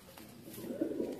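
Kamagar pigeons coo softly at close range, a low, throaty murmur that swells slightly in the second half with two brief louder notes, over quiet room ambience and with no talking.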